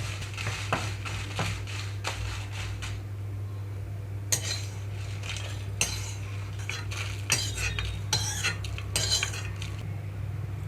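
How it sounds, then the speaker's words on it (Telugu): Dried red chillies are scraped from a pan onto a plate with a spatula, a series of close metallic scrapes, taps and light clinks in irregular bursts over a steady low hum, with no talking. "ఎండుమిరపకాయలు ఇప్పుడు ఒక ప్లేట్లోకి తీసుకుంటున్నాను"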